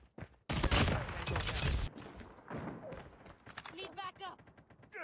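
Automatic gunfire in the video game Call of Duty Mobile, with a loud sustained burst of shots early on, then scattered thuds and shots among in-game voice callouts.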